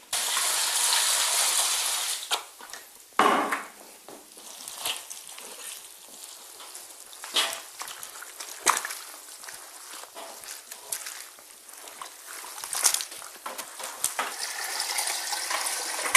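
Water splashes and sloshes irregularly as beeswax cappings are washed to remove leftover honey, with gushing and dripping bursts and occasional clinks, close and moderately loud, no talking.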